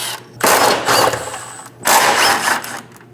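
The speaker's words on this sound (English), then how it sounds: "Go ahead and use a 15mm socket and remove the bolts." A ratchet and 15mm socket work the fuel tank strap bolts loose under a Dodge Durango 5.7L V8, giving two loud bursts of fast mechanical clicking separated by a brief pause.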